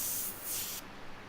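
An airbrush sprays paint onto a T-shirt in short close hissing bursts, then cuts off to near quiet.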